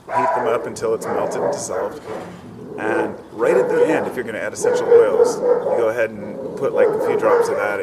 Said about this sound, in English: My neighbor's dogs just suck ass.